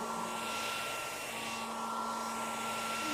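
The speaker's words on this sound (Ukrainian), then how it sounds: "І включимо фен і послушаємо." A steady, unbroken whirring drone of a hair dryer running continuously, with a constant whine on top and no voices.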